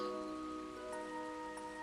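Rain falls in the video game Trails to Azure, a faint steady patter under soft sustained background music, with no speech.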